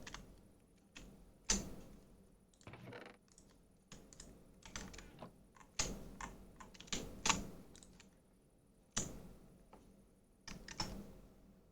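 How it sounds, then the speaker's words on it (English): Computer keyboard typing heard close and alone, irregular bursts of sharp clicky keystrokes with short pauses between flurries, moderately quiet. "it sounds now like my keyboard is even louder"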